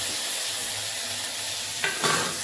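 Tomatoes and red chili paste fry in a pan with a steady close sizzle, broken near the end by a couple of louder stirring scrapes, with no talking.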